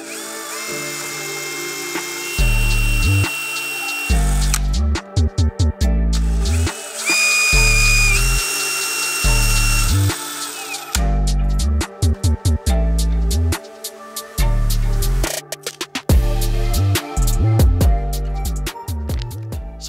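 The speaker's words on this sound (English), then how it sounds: "I'm gonna go grab a drill bit, see what size fits that hole" A power drill bores holes in a 2022 Subaru WRX bumper in repeated bursts, starting and stopping every second or two with a high whine over a rough, grinding motor.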